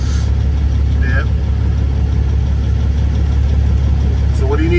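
A semi truck engine idles steadily while maneuvering a trailer, a constant low rumble close by with someone talking over it.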